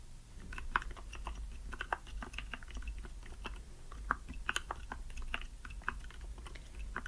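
Soft, close keystrokes tapped on a computer keyboard in irregular bursts and short runs, quiet and intimate over a low steady hum, with no talking.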